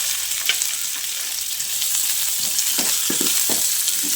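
Potatoes fry in a pan with tempering spices, giving a close, steady sizzle broken by several sharp stirring scrapes in the second half.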